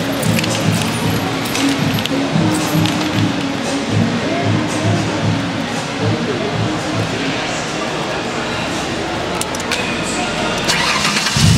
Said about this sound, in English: I hot wired this drill handle to remotely start my car from underneath the hood